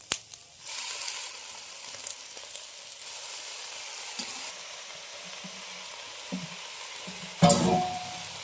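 Onions fried golden, then saag greens, sizzle steadily in a hot pan, with a sudden louder burst of frying near the end as the greens go in.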